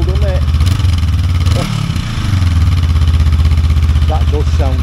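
A Honda CL500 motorcycle with its standard exhaust runs steadily nearby, a loud, even engine drone with a brief dip in revs midway before settling back into a strong idle, and a voice talks briefly over it.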